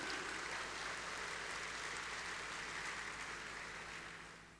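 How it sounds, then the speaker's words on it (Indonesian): Audience at the Dhammavaganza 2020 talk show applauding a guest, a steady dense wash of clapping at moderate distance that fades out toward the end. "kita sambut dengan tepuk tangan yang meriah sekali"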